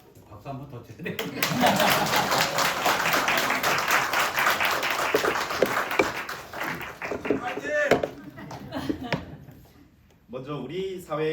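Audience at an award ceremony clapping in a dense, sustained burst of applause that fades after several seconds, with a speaker talking at the start and end.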